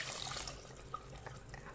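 Water poured into a pan of tomato sauce on the stove while mini kofta are being prepared, a soft, steady trickling and splashing with faint drips, close and fairly quiet.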